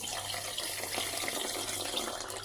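Water running into a bowl of washed Gobindobhog rice to soak it, a steady, moderately quiet splashing flow that continues unbroken throughout with no voices.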